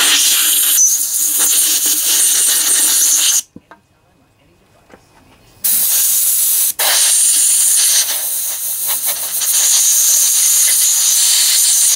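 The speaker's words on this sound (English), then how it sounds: "you want to make sure to blow everything out with compressed air" Compressed air hisses loudly from a nozzle while cleaning a Briggs and Stratton lawnmower carburetor during a rebuild, two long blasts broken by a few seconds of silence.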